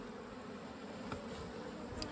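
Honey bees buzz steadily at an open horizontal Flow Hive during an inspection, a dense, close, continuous drone with no voices.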